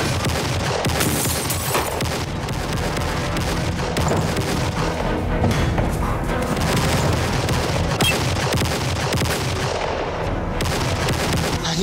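A film shootout with heavy gunfire raking the second floor of a building, a continuous loud barrage of overlapping shots and impacts that fills the scene without letup.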